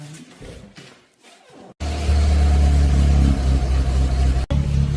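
A 1965 Citroën DS19 Pallas starts up: a few seconds of quieter background, a brief silence, then the engine catches and settles into a loud, steady close-up idle with a short dropout near the end.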